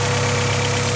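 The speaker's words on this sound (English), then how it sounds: "Still holding a strong idle." A steady, loud, low rumble from an Acura Integra engine idling evenly during cooling-system bleeding after an intake manifold install, heard close and alone.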